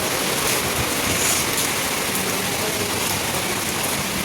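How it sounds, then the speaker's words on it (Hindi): The first rain after Ramzan, falling as an even, loud, unbroken wash of hiss close by, with nobody talking. "ये देखिए रमज़ान के बाद की पहली बारिश"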